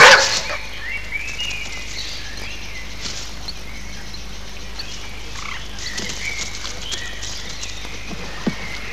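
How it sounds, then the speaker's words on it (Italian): A large dog barks in a woodland scene from an animated film, the barks faint and distant over a quiet outdoor ambience with soft croaking tones. "C'è un grosso cane nel bosco."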